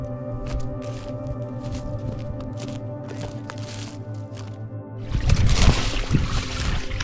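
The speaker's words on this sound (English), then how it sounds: "There's the river." River water flows through an underground cave on Skye, a soft trickling and splashing that swells much louder toward the end, with occasional footstep-like squishes nearby.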